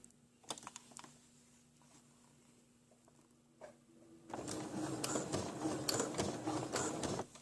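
Sewing machine stitching and backstitching a pant cuff, a faint start at first, then a steady, fairly loud mechanical whir and rapid needle clatter running continuously through the second half.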